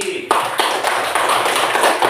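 Pupils in a fifth-grade primary school classroom give a short burst of applause, a dense patter of many hands clapping together from start to finish after a brief quiet moment.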